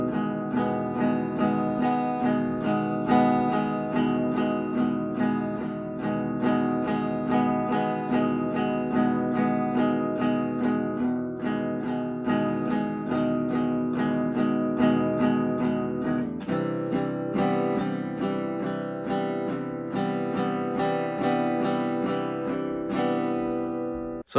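Steady guitar chords picked in even eighth notes with the thumb, a continuous rhythmic strum alone with no voices, shifting chord around the middle.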